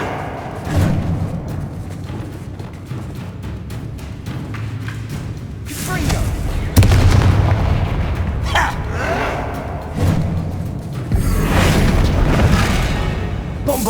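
A Bombarda blasting spell goes off in Hogwarts Legacy, with several heavy booms and thuds landing at intervals over steady game noise while a player shouts and talks.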